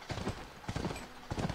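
A horse's hooves clip-clop in The Last of Us video game on PlayStation 3, near a ranch, in three quick bursts of hoofbeats spread across a short moment.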